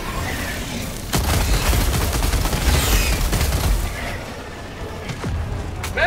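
Rapid gunfire from the video game Helldivers 2: dense bursts of automatic shots and booming blasts, loud and continuous for several seconds, with sharp distinct cracks near the start and a short lull near the end.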